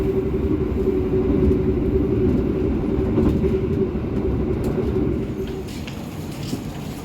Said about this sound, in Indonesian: kereta api Harina tancap gas hingga 100 km per jam ya